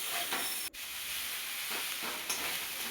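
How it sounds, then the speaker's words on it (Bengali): Spices and ginger-chili paste frying in a pan for a vegetarian Bengali dish, a steady close sizzle with occasional stirring scrapes and one brief dropout, no voices. "এবার কিছুক্ষণ নেড়ে"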